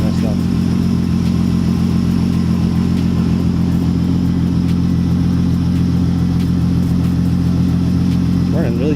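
A turbocharged VR6 engine in an MK4 car idles steadily and loudly up close, a smooth continuous low hum with a voice audible at times over it.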